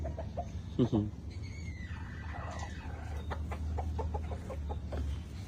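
A chicken clucking in a nest, a few soft clucks and short squawks near the start, then quieter clucking under a low background hum.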